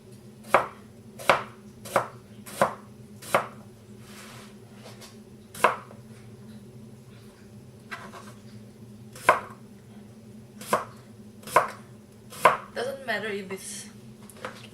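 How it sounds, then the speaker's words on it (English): A knife julienning white radish for kimchi on a cutting board, heard as sharp, evenly spaced chops in short runs with pauses, ending in a quicker flurry of cuts, close and clear. "Then for the white radish, just julienne it."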